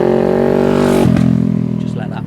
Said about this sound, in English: Just let that motorbike go.